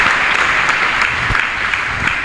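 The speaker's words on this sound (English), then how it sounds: "Can you clap for Jesus Christ for that prophecy and the confirmation of the prophecy?" A church congregation clapping for Jesus Christ after a prophecy, with loud, continuous, dense applause that fills the whole span without any break.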